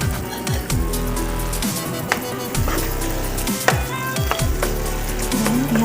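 Macaroni pasta is stirred with burger cheese in a pan for white macaroni with cauliflower, giving steady close sizzling and soft scraping and sloshing sounds with occasional utensil knocks, no talking.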